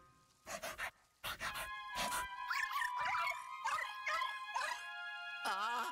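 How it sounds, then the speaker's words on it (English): The ghost dog Polterpup in the video game Luigi's Mansion 2 HD, giving a few sharp yips and pants followed by a longer run of whiny, warbling howls and vocal noises, close and clear. "where did that ghostly dog come from?"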